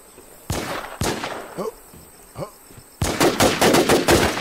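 Gunfire in The War Z, an online zombie survival shooter: two sharp single shots, a pair of fainter distant reports, then a loud rapid burst of automatic fire at close range, with no one talking.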